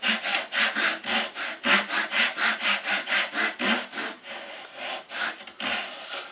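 A hand saw cuts a wooden tenon for a storage cabinet build with quick back-and-forth strokes. The rasping is loud and close, runs in an even rhythm, then slows and breaks up near the end.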